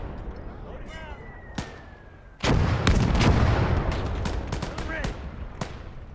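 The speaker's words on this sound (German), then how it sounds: "Der Mörser hat geschossen." Mortar firing in the World War II strategy game Gates of Hell: Liberation, a sharp booming launch followed by a dense roll of explosions and gunfire, loud and close, with someone talking over it.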